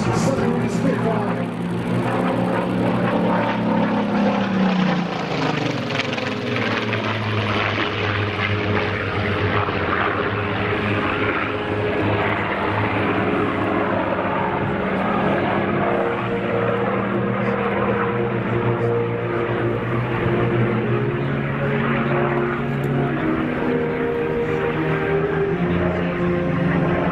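A clipped-wing Supermarine Spitfire flies a display overhead, its propeller engine a loud continuous drone that sweeps in pitch as it passes and keeps roaring steadily.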